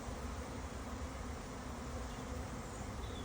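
A swarm of bees flies outdoors in a park with tall trees, producing a steady, dense buzzing hum that fills the air continuously without any talk.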